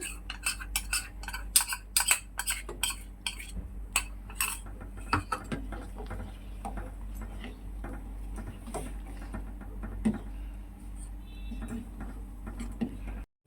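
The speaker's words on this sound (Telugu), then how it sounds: "ఇప్పుడు కస్టర్డ్ని మిక్స్ చేస్తున్నాను." Custard being stirred in a pot with a metal utensil, quick clinking taps against the pot at first, then slower scraping and occasional knocks, close and unaccompanied by speech.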